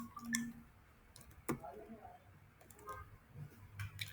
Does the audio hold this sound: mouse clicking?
yes